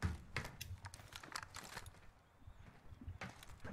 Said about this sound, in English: There's footsteps to your left.